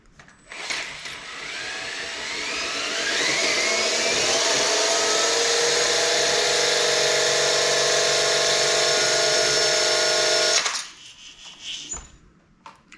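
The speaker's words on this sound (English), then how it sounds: "I'm going to spin the front wheel and see whether it gives us a speed" The front wheel of a KTM Duke 390 motorcycle whirs as it is spun up, rising into a steady, loud whine that holds for several seconds before cutting off, followed by faint clicks and handling noise.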